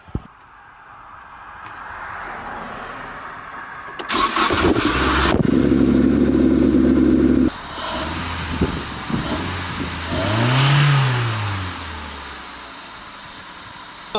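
A car engine fitted with an INJEN short ram air intake cranks, catches and settles into a steady idle, then revs rise and fall once before it returns to idle, close and loud with no talking.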